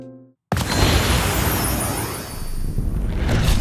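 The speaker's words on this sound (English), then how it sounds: "Check out this other explosion I designed using several layers of wind chimes, dropping oil on fire, door slams" After a brief quiet moment, a sudden loud explosion sound effect, layered from wind chimes, oil dropped on fire, door slams and white noise, bursts out and rumbles on as a dense roaring blast with crackling debris.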